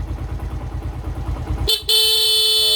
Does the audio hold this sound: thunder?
no